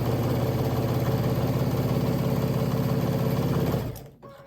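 A sewing machine back-stitching through a quilt panel, running in a fast, even mechanical rhythm up close before slowing and stopping near the end, with no voices.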